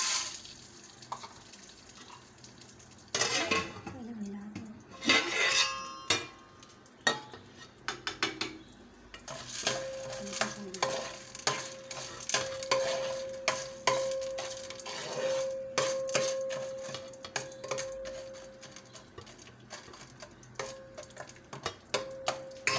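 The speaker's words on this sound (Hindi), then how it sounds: "ये मैंने तेल और नमक में पॉपकॉर्न मिला दिए हैं, जो कि भुट्टे के दाने हैं।" Popcorn kernels being stirred in a pan with hot oil and salt make irregular scraping and clattering strokes, close and moderately loud, with a faint steady hiss beneath.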